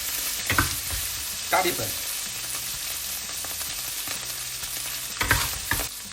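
Shrimp, carrots and peas stir-fried in a hot wok for pineapple fried rice, a steady sizzle broken by several sharp spatula scrapes and clanks, with a brief spoken word.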